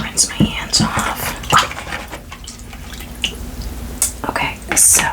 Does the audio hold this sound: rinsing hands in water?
yes